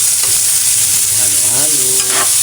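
Bitter gourd and egg get stirred in a hot pan, a steady frying sizzle with the scrape of a utensil moving through the food, close and loud, with no talking.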